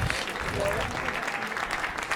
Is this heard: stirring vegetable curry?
no